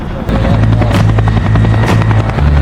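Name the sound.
helicopter flying, from a film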